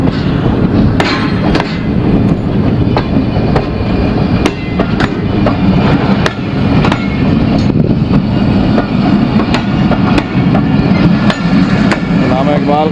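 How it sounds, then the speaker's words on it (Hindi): A train with a freshly painted coach passes close by in Pakistan, giving a loud, steady rumble with rhythmic clickety-clack wheel beats over the rail joints, under a faint voice. "ये कोच पीछे नई पेंट होकर आ रही है।"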